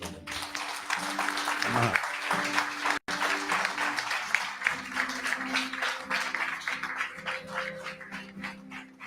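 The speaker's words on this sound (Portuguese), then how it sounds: "Dê um aplauso a Cristo" A church congregation claps together for Christ during a Sunday morning service, with sustained, fairly even applause that runs under a voice speaking and calling out.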